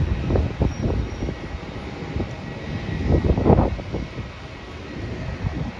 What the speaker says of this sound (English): The flight from Singapore is making its way towards the gates now.